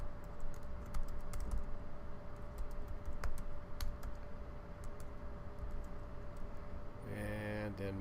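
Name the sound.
typing email address on computer keyboard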